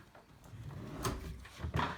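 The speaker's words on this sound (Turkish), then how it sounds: "çekmeceyi açar mısın?" A household drawer is slid open at home during an evening routine, a soft wooden scrape followed by a couple of quiet knocks as it moves and settles, close and fairly faint.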